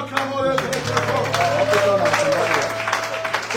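A church congregation bursts into loud applause and clapping right up close, a dense sustained roar of hands that keeps going for several seconds, with voices mixed in.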